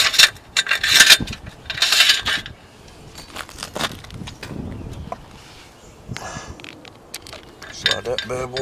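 A metal bolt slides and rattles into a solar panel roof mounting bracket, with bursts of scraping and clinking metal, some louder grinding strokes early on and quieter rubbing between.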